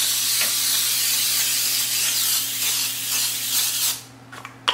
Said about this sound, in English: we are just going to spray our sheet